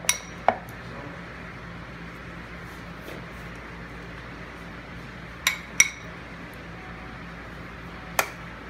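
Seasoned potatoes set into a salad dish for a Moroccan salad, with a few sharp, close clinks of a utensil against the dish at the start, in the middle and near the end, over a quiet background with no talk.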